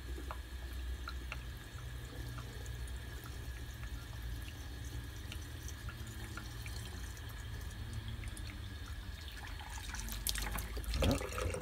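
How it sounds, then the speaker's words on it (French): Clean water running and sloshing as the inside of an old lead-acid battery is rinsed to clear residue from its plates, a steady close stream with a louder splash near the end and no talk. "On nettoie bien l'eau claire après pour nettoyer toutes les plaques afin qu'il ne reste plus de résidus à l'intérieur."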